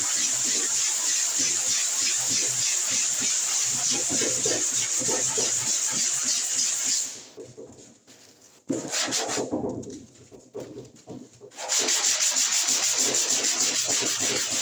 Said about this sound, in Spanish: Entonces recalco el lijado sobre ese sector.